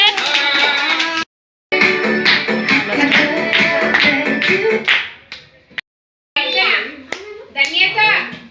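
Children clap their hands together in quick, loud bursts at a birthday party, the rapid claps stopping and starting between brief silences while a voice and nearby talk mix in.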